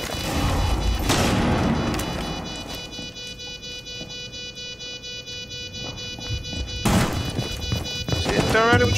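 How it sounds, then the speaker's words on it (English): A flashbang grenade goes off in Rainbow Six Siege: a loud, sharp burst, then a sustained high ringing tone, then another heavy blast near the end, with players talking over the game sound. "Flashbang out."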